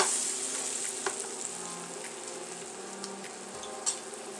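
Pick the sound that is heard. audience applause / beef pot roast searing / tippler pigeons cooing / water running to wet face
beef pot roast searing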